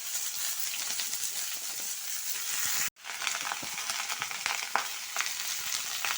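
Washed red amaranth (lal saag) stalks hit hot oil with dried red chillies, bursting into a loud, steady sizzle after a brief gap, with scattered crackles and stirring scrapes, close and alone.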